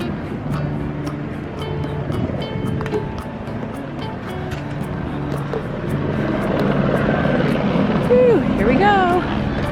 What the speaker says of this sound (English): I know it's a good day because there's a lot of helicopters going out.